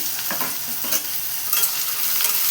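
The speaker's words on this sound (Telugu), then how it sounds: "నూనె బాగా వేడైన తర్వాత ఈ ఆలుగడ్డలు వేసేసుకోవాలి." Cut potatoes dropped into well-heated oil, giving a loud, dense, continuous sizzle with a few stirring knocks, close up and without any talk.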